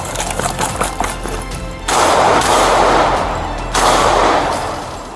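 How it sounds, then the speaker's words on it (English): Rapid gunfire bursts during a police foot chase after an armed robbery near McAllister Street, two loud sustained volleys of shots with a dense rattling texture, broken by a shorter pause. "he turned back, raised the weapon, and fired"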